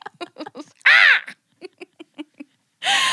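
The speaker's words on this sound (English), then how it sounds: "That clearly was an eagle screech." An eagle screech sound effect plays twice, each time a loud, harsh, crow-like squawk. Short bursts of quick speech come before and between the two calls.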